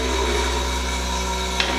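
A vibratory feeder bowl, its tuning being loosened, gives off a loud, steady droning hum that stays fairly even throughout.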